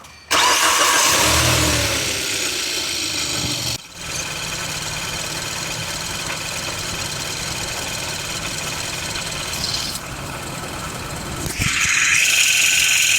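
A car engine with no oil in it cranks and catches, then runs at a steady loud idle. There is a brief dip and pause near the start, and a higher whine and a revving rise come toward the end.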